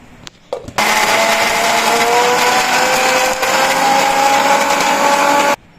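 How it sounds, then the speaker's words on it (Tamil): A mixer grinder starts with a few clicks, then whirs loudly and continuously for about five seconds as it blends cooled masala into a fine paste for mutton kuzhambu, before cutting off abruptly. "இப்போ இந்த மசாலா வந்து நல்லா ஆறிடுச்சு. நைஸாக அரைச்சி எடுத்துக்கலாம்."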